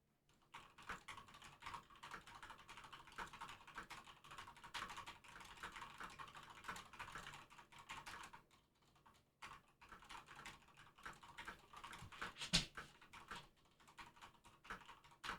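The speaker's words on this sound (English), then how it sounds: "Typing noises." Computer keyboard typing clatters quietly and close in uneven bursts of rapid key taps, pausing briefly midway before resuming, with one sharper click near the end.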